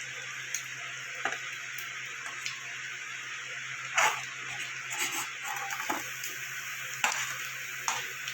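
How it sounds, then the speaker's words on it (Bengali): Prawns frying in hot oil for an okra and prawn curry give a steady close sizzle, with a few sharper clicks and spatters from stirring at intervals and no talking. "চিংড়ি মাছগুলো আমার ভাজা হয়ে গেছে"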